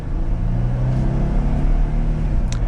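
The V6 engine of a 2022 Jeep Wrangler Willys 4x4 drones and rumbles steadily from inside the cabin on a test drive, a loud, continuous low hum with road noise and no talk.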